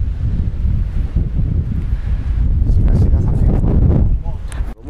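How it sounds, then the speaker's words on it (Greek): Strong gusting wind on a dirt track through forest on Mount Hymettus, roaring steadily as a loud low rumble of wind buffeting the microphone for the whole stretch, dropping briefly near the end. "Φυσάει πολύ και είναι πολύ όμορφα."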